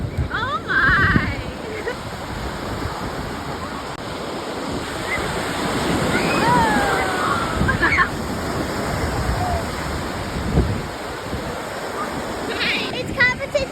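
Ocean-like waves wash onto the shore at Neshotah Beach on Lake Michigan in Two Rivers, Wisconsin, a steady rushing surf with wind noise and people talking over it.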